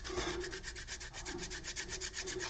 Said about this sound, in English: sanding is the way to go